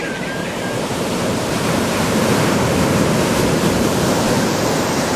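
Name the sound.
AI-generated audio of waves crashing on rocks with seagulls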